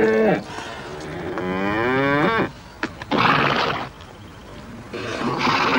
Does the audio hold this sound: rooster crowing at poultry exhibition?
no